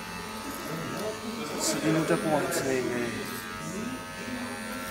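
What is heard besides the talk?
electric shaver used to cut hair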